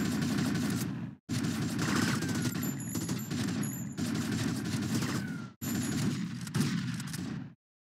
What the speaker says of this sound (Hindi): चल गन चलाना, देखो